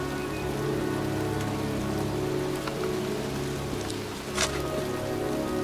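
Steady rain falling in a cemetery in the video game Heavy Rain, a continuous patter of drops on surfaces under a low ambient hum, moderately quiet, with one brief brighter splash near the end and no talking.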